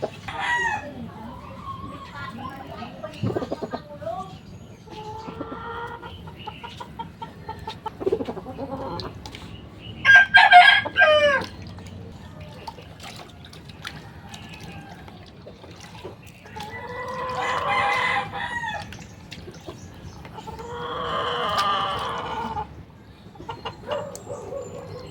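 Chickens being bathed in shampoo water for delousing give clucks and a couple of crows, with a louder squawking burst mid-way and repeated calls later over a low steady background.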